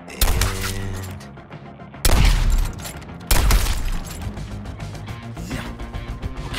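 Gunfire in Suicide Squad: Kill the Justice League, a loud burst of shots followed by two heavy impacts, with game music and effects continuing underneath.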